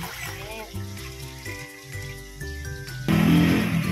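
Water pours into a pot holding about 100 quail eggs to be boiled, a short broadband rush near the end that follows a stretch of steady tonal background sound.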